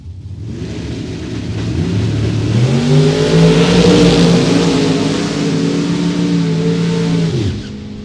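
Drag racing launch with a dragster and an Oldsmobile side by side, two loud engines roaring and rising in pitch together for several seconds before cutting off abruptly near the end, no voices.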